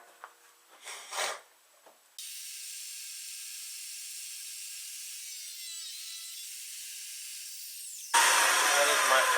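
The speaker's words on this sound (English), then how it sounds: "we are going to cut the rest of the dados here on the table saw" A table saw cuts a dado in a board, giving a steady hissing whir that runs for several seconds and then jumps to a louder, rougher burst at the end. A few brief sounds come before the saw starts.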